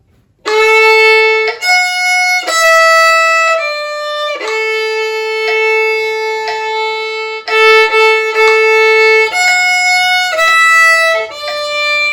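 A violin plays a flowing phrase of Jingle Bells in sustained, bowed notes, close and clear, with no one talking.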